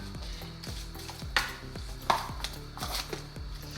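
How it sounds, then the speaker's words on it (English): A spoon clinks and scrapes steadily in a pot of food as pepper is stirred in for ribs-dinner mac and cheese, with a few sharper knocks against the side, close and fairly busy, no voices. "And then we're gonna just give this a nice little stir."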